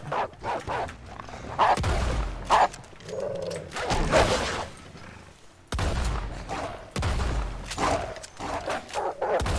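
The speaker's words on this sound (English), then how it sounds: "Damn wolves." Wolves barking in the wild during a small hunting trip, sharp repeated barks and yips in irregular bursts, fairly close and loud, with a few gunshot-like cracks mixed in.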